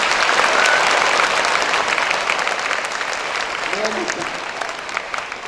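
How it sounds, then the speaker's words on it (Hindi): Audience clapping loudly at a moral education talk, a dense, sustained burst of applause filling the room, strongest at the start and easing slightly while continuing throughout. "एक बार जोर से ताली बजा करके मेमोरी पावर बढ़ाएं।"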